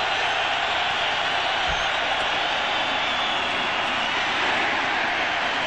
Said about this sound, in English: Crowd trying to help the defense.